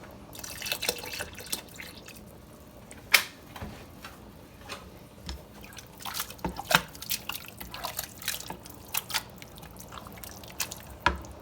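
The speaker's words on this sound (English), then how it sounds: "add some milk." Milk poured into a simmering sauce for chicken lasagna, with wet dripping and splashing sounds coming in irregular bursts across the whole stretch, close by and with no talking.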